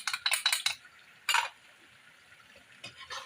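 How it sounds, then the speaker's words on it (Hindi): A spoon scrapes and clatters in a karahi as chicken with karahi masala, crushed chillies and garam masala is stirred and sautéed, with quick bursts of metallic scraping, a pause, then more stirring close up. "और इसकी ज़रा सी भुनाई करनी है।"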